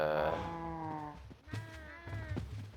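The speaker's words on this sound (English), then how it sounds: "This is Papa Smurf's cow farm, ranch thingy bobber" Cows on a ranch in the PirateKove video game moo, one long drawn-out low call followed by a second shorter moo, close and clear with no talking.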